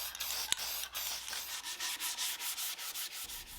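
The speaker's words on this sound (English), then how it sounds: "I'm using 220 grit sandpaper for the final sanding" A 1960s mid-century thrift-store dresser is hand-sanded with 220 grit sandpaper, steady rhythmic back-and-forth rasping strokes, close and fairly soft, with no voices.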